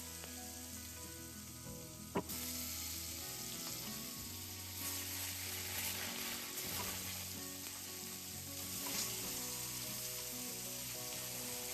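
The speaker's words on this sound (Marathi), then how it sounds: "आणि यामध्ये हे पनीरचे पीस टाकायचे." Paneer pieces with chili powder, turmeric and salt fry in a pan with a soft, continuous sizzle, heard close and alone. Faint background hum and an occasional light clink of stirring run through it.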